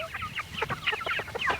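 Several chickens cluck in a close, busy chorus of short overlapping calls, steady and continuous throughout, filmed among a flock of Reds in 1993.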